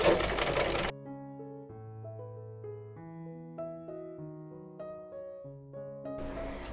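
A domestic sewing machine stitching a child's long gown, its short mechanical whirring bursts opening and closing the passage, with a soft tonal melody playing between them.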